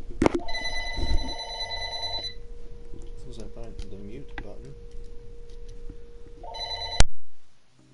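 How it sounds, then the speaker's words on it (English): A telephone rings repeatedly in a PS4 game session, a bright electronic trilling tone over steady game background noise, stopping abruptly near the end. "There goes my phone."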